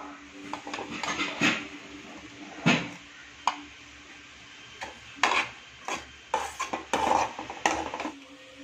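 Fried onions being scooped from a pan into a container in a kitchen, with a series of sharp metallic scrapes and clinks of utensil against cookware at an irregular pace, close and moderately loud.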